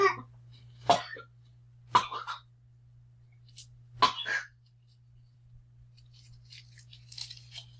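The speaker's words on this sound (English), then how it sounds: "Wait a minute, I got a cough again." Four sharp human coughs ring out close by at irregular intervals over a steady low hum, followed by faint rustling.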